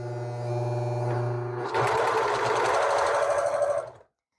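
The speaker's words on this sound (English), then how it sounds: "listen to the sound of the machine and watch the needle action as I start pressing the" A sewing machine hums steadily, then, as the foot pedal is pressed, bursts into a fast, rattling mechanical whir of rapid needle strokes before stopping abruptly.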